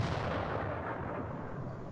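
A tank gun fires in the World of Tanks video game, with a deep rumbling boom and a sustained low roar of battle noise filling the moment at steady loudness.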